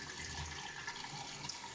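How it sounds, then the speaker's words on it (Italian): Water running into a Geberit concealed toilet cistern after the supply is reopened following a leak repair, a steady hissing rush of filling water, close and even throughout with no talking. "Adesso si sta riempiendo la vaschetta."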